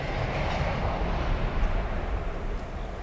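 A steady, loud rumbling roar of a passing train fills the clip, broadband and continuous with a faint rhythmic rattle underneath.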